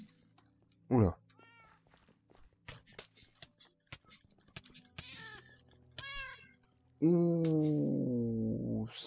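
Several cat meows sound in the Minecraft FTB Infinity game: a sharp cry at one second, a run of mews around five to six seconds, and a long, loud drawn-out yowl closing the stretch, amid game noises with someone talking.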